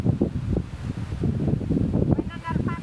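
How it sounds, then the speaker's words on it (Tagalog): Strong wind buffets the microphone in loud, uneven gusts, with a few faint voices and bird-like chirps near the end. "Malakas yung hangin kaya."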